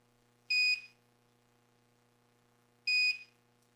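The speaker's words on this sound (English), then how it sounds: "We're going to turn the continuity tester back on." An audio cable continuity tester sounds two short, sharp electronic beeps a couple of seconds apart over a faint background hum, clear and close.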